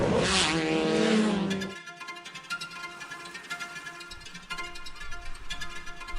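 Race cars roar along a closed-off town street circuit by the beach at the 2010 Bang Saen Thailand Speed Festival, one loud close pass giving way to revving, gear changes and engine noise, with no talking.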